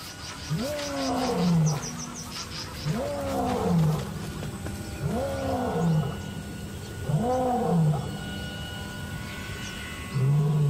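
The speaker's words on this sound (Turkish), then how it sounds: "Kükremesi bu bölgenin hakimi olduğuna dair açık bir mesaj." A male lion, head of the pride, roars in a steady series of deep, groaning calls, about five loud bursts spaced a couple of seconds apart, fairly close in an open wild setting.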